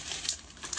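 Dry jhuri bhaja, crisp fried gram-flour bits, pours into a ghoti pot set over a low gas flame, making a brief, soft crinkling and pattering rustle.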